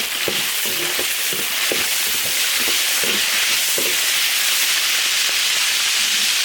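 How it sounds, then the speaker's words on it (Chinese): Sichuan peppercorns, ginger, garlic and pickled chilies fry in hot oil in an iron wok, giving a loud, continuous sizzle and hiss with occasional scraping stirs. "花椒炝锅，生姜、大蒜、泡椒炒香"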